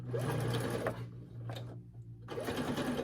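A sewing machine bastes dress straps in place inside the seam allowance of a sundress bodice, running in two short close bursts with a brief pause between them.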